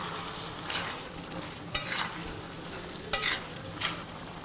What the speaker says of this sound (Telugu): పెరుగు వేసి బాగా కలపండి